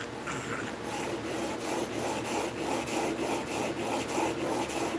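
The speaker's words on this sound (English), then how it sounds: "now we're gonna establish a new little bevel on the very end" Blade of an old junk hand plane honed on a stone to form a new small bevel at the very tip, giving a steady, rough rasping scrape in even back-and-forth strokes, close and continuous throughout.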